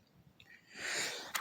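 A single sharp sneeze bursts out after a short inhaled build-up, loud and close, followed by a brief trailing exhale.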